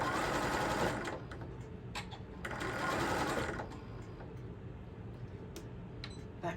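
A sewing machine runs through the seams of a tote bag, a close, steady mechanical whir that swells in two longer bursts and then settles into a softer hum with occasional clicks.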